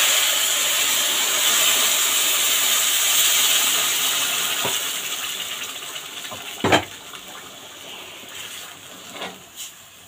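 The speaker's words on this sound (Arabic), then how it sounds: "شويه ميه سخنين." Hot water pours into a pot of rice in a home kitchen, a close, bright hiss and rush that gradually fades, followed by a few short clinks and knocks near the end; no talking.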